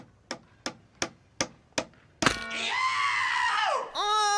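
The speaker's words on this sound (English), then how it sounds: "It's a man hitting his thumb with a hammer." Five sharp, evenly spaced hammer taps knock in a row, then a loud, long pained scream rises and wavers, breaking off briefly before resuming.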